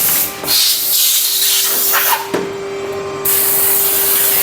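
Silicone injection gun at a Chinese slipper factory die press, letting out a loud steady spray-like hiss that breaks off sharply partway through and then resumes, with a constant mechanical hum beneath.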